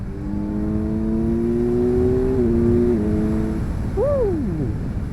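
A 2025 Kawasaki Z900 motorcycle engine hums with a smooth, steady tone that climbs gradually as the throttle opens, then drops away and is followed by a brief sharp rise and fall near the end, with no talking.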